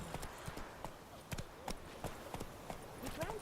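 A horse gallops in The Witcher 3 with steady, rhythmic clip-clop hoofbeats that are close and fairly loud. Faint voices can be heard now and then beneath the hooves.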